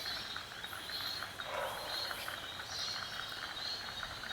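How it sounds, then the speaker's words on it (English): Frogs calling around a homestead after rain, a faint chorus of rhythmic, repeated trilling and clicking notes, distant and steady with small bursts of chirps. "You might be able to hear the frogs as we walk around because of all the rain."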